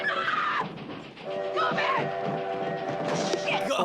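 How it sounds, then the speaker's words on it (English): A loud train horn blares in long sustained tones as a train passes close by, with rumbling and shouting voices mixed in. "train is honking like they can do anything about it"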